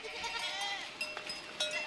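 Goats bleat during a transhumance drive of a shepherd's herd in the Abkhaz mountains, calling in a few close, wavering cries over a low outdoor murmur.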